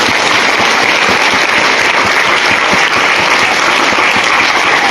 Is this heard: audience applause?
yes